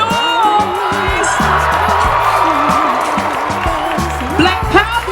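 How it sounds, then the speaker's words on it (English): A rally crowd cheers, whoops and claps loudly all around, a dense continuous roar with voices rising over it and a brief swell near the end. "Come on, FBA, make some"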